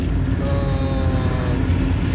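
A small Opel Agila 1.2 litre 16-valve hatchback cruising along, its engine drone and road roar steady and loud from inside the cabin, with a faint tonal whine running throughout and no talking.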